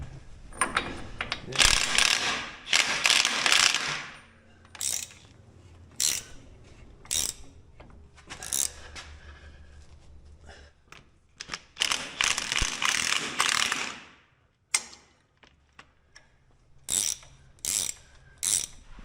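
A hand ratchet snugs down a lower kingpin bolt in a workshop, pulling the kingpin up into its bearing; bursts of quick, close mechanical clicking alternate with quieter pauses.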